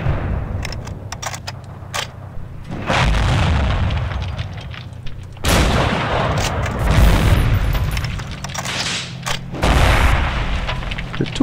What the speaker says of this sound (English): The two pounder is doing a duel with me.